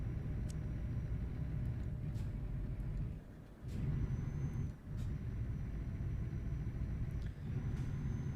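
Scania truck engine in a truck driving game, a steady low diesel rumble with brief dips and occasional hiss-like air brake bursts, continuous and fairly quiet.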